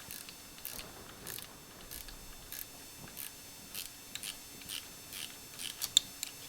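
A small spanner tightens a nylock nut on an alloy motorcycle brake lever on a CCM Spitfire, a faint, sparse series of light metallic clicks and ticks heard close up in a quiet room.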